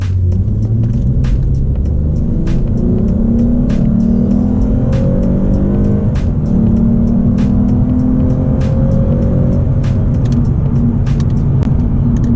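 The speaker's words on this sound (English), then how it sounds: "a quick little pull up to 60 miles an hour with the WindBooster" A car fitted with a WindBooster throttle controller accelerates hard up to 60 mph, heard from inside as a loud, rising engine rumble climbing through gears, with rapid ticking clicks throughout.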